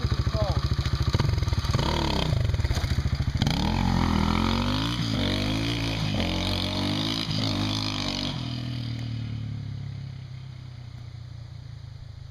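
A dirt bike engine, just kick-started and warm, runs loud and close with a steady thumping idle, then revs up in a series of throttle blips before settling and fading slightly toward the end.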